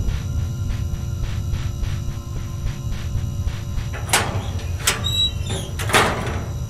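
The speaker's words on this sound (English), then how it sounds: "Oh, I just heard someone exit their locker." Inside the Backrooms video game: a locker door opens with a few sharp metallic clanks and squeaks in the second half, after a low droning hum and soft rhythmic thuds.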